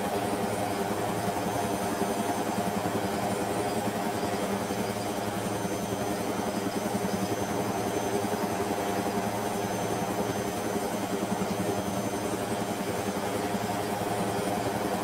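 Apache helicopters in Arma 2 produce a continuous rotor and engine drone with a faint rhythmic chop, holding steady and moderately loud throughout.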